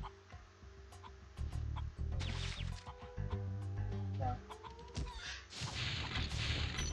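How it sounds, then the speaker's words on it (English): Chicken-like creatures cluck in a swamp level of the Spyro the Dragon video game, a string of short, busy calls over steady game music and thumps, fairly loud and continuous. "It's like naked chickens"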